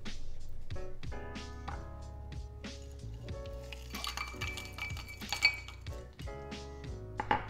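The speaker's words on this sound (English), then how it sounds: "we're going to be using crushed ice cubes. We're going to put that in the glass" Crushed fridge ice cubes tumble into a glass while a cocktail is made: a quick run of bright clinks and chinks against the glass, close and busy, with a louder rattle toward the end.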